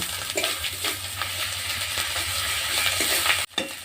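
Cumin and coriander paste fries in a pan with a steady, dense sizzle, broken by quick stirring scrapes and a brief pause near the end before the hiss resumes.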